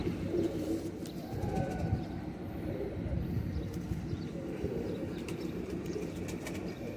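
Pigeons in a loft cooing in low, rolling murmurs that repeat throughout, close and fairly loud, with occasional faint wing flutters and clicks in the background.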